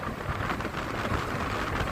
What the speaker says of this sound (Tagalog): Sobrang lakas ng ulan, saka lakas ng hangin.